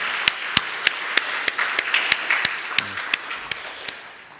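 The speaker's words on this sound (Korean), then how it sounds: "우리 다시 한번 하나님께 영광의 박수 올려드리겠습니다" Church congregation applauding after a violin solo with piano during a Sunday worship service, steady clapping with sharp individual claps standing out, fairly close and without talk.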